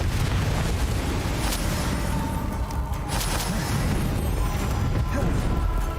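Spell explosions from Bombarda and Confringo in the Hogwarts Legacy video game, with dense, continuous booming and crackling bursts that stay loud throughout and include a few sharper blasts.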